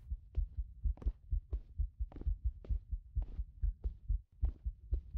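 A heartbeat thumps in a horror video game, a low, regular double-beat pulse repeating about twice per second, close and steady with no talk over it.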